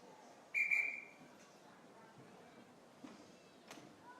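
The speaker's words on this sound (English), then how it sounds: "Bart gave us a pause whistle there" A referee's short, sharp pause whistle cuts through a timbersports competition arena and is followed by quiet crowd ambience and faint distant noises.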